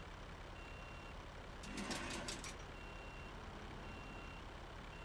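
A truck backing up in Car Dealer Simulator gives a short run of five or six evenly spaced, high reversing beeps. They sit under a constant low engine rumble and noisy background.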